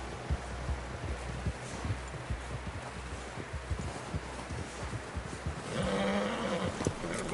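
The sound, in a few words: horse in video game Red Dead Redemption 2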